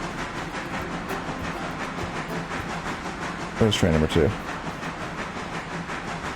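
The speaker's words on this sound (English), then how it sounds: "let's release the brakes. We're gonna reverse" A train in the video game Railroader rumbles steadily in reverse with a continuous mechanical hiss and rattle, while a voice briefly speaks over it.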